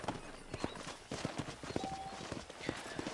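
Horse hooves clip-clop in the Red Dead Redemption western game, a quiet, irregular trot of soft beats under faint game ambience.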